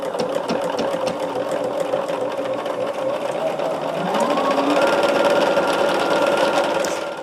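A sewing machine runs steadily while stitching cotton quilt pieces for a tree-of-life quilt block, a continuous close mechanical whir that rises slightly in pitch and loudness partway through, heard alone without talk.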